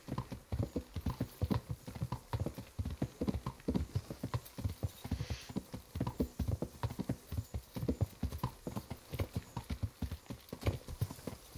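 Horse hooves clip-clopping in a steady, rapid rhythm throughout, close and continuous with no talking, in the video game Kingdom Come: Deliverance.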